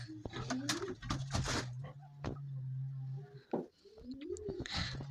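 Pigeons coo in short, soft, throaty bursts near a rural backyard scrap yard, repeating in irregular phrases while faint bird chirps and small clicks come and go.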